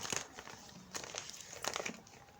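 Paper crinkles and creases in short, soft bursts as it is folded for origami, close and quiet with several quick rustles.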